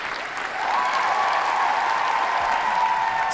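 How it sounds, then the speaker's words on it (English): Steady audience applause fills the room without a break, loud and close, picking up after a softer first half second, with scattered whoops and cheers from the crowd. "I just want to give a round of applause for that"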